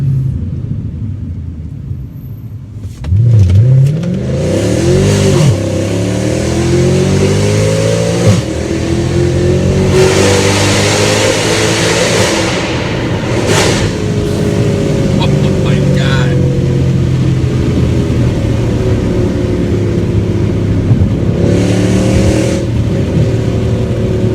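A Mercedes C63 AMG with Renntech tuning accelerates hard at full throttle, rising through gears with deep roaring revs, loud and close, with brief shifts between pulls.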